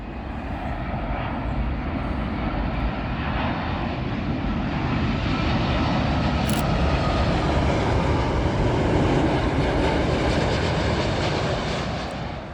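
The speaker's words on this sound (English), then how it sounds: "787 Dreamliner, and this one is from Amman." A Royal Jordanian Boeing 787 Dreamliner arriving at Heathrow from Amman gives a broad, steady engine roar that swells gently toward the middle and eases off at the end, heard alone without talk.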